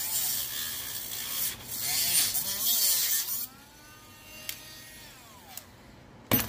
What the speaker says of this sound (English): I don't like the noise of the Dremel